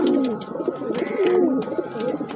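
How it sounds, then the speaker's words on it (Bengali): A pair of Allahabadi Chini Kaldom pigeons coo close by, their low, throaty, rolling calls repeating steadily in overlapping phrases with no talk. "এলাহাবাদি চিনি কালদমা পায়রা দুটো সেম পেয়ার আছে"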